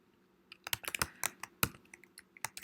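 Computer keyboard keys are pressed for a shortcut, about a dozen quiet, irregular clicks and taps in short bursts with no voice.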